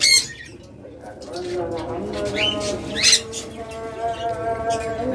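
A yellow Fischer's lovebird pair in a cage chirp and squawk in short, sharp bursts, close by, over a busy background of other cage birds and faint voices.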